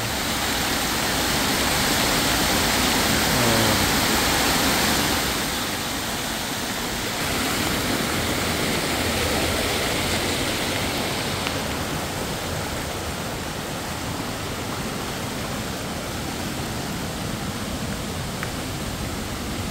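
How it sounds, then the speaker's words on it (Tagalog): Imogan Falls pouring with strong force: a dense, unbroken roar of rushing water, loud and steady throughout, easing slightly after the first few seconds. "Ang lakas ng tubig guys."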